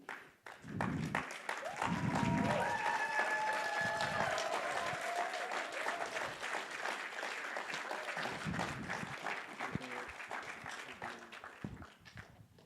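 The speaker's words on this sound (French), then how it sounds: "avec un tonnerre d'applaudissements, recevoir Chara et Yannick Michaud" Audience applause at a youth panel during a diversity cabaret in Rimouski, a long, sustained clapping wash with whistles and a few cheering voices, rising early, holding moderately loud, then thinning out at the close.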